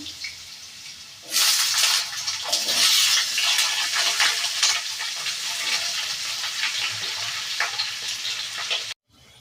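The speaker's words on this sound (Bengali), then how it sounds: "আলুগুলো ভাজা করে নেব।" Potatoes drop into hot oil in a kadai and burst into a loud, steady sizzle, crackling and spitting close by before cutting off abruptly near the end.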